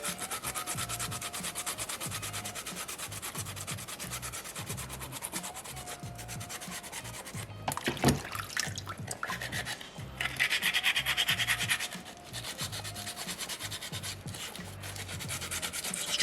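Sandpaper rubs steadily over a small soapstone polar bear carving, a continuous gritty scraping in close rhythmic strokes, briefly interrupted by a sharp knock and a louder, brighter stretch of rubbing.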